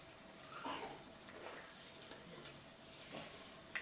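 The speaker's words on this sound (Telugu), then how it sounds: "ఉల్లిపాయల్లో కలిసేటట్టు ఎగ్ని బాగా కలుపుకుంటా 3 to 4 మినిట్స్ అలా ఉడికించాలి." Egg frying with chopped onions in a pan for egg bhurji, a steady soft sizzle with faint scraping as it is stirred.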